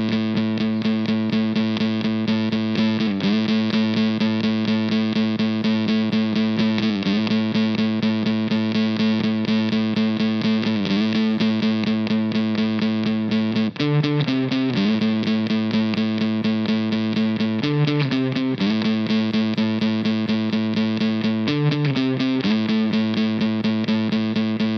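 A distorted electric guitar through a Teisco fuzz plays a steady, repeating low riff following the bass, with sliding note changes, loud and continuous throughout.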